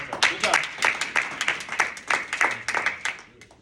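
An audience claps in an indoor community talk setting, a short burst of scattered, moderately loud hand claps lasting a few seconds and tapering toward the end.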